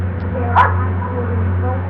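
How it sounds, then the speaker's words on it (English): A search and rescue sniffer dog barks once, short and sharp, in a tornado-struck Oklahoma City neighborhood, heard beneath steady talking over a low background hum. "Search and rescue teams with sniffer dogs went from house to house"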